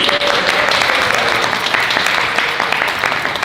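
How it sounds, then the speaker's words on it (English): Audience applause after a winning fiction writer is introduced at an anthology launch and reading, steady dense clapping that fills the room loudly and evenly throughout. "So give Laura a huge round of applause, please."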